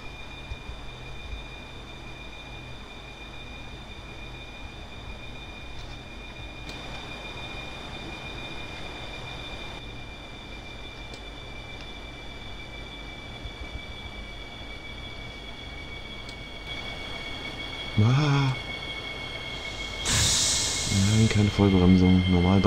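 An ÖBB Talent 4024 regional express train on the Arlberg line in Train Simulator 2019 brakes hard, with a steady rolling rumble and a sharp squealing burst near the end while someone talks over it.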